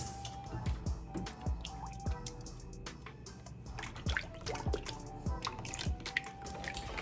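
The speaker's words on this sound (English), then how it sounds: "So we're going to take our heavy cream and pour it into the bowl." Heavy cream poured into a chilled bowl, quiet close dripping and splashing with soft irregular liquid plops and small clinks throughout, no talk.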